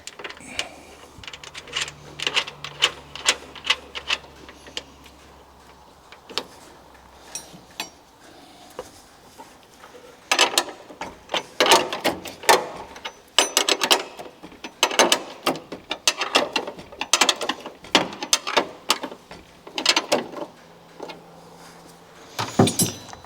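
A 10mm bolt is tightened on a strut lift plate of a Daihatsu Hijet S510P kei truck, with many sharp metallic ratcheting clicks that come in bursts, sparse at first and then quick and steady.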